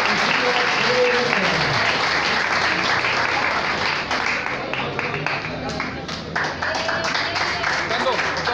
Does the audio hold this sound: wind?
no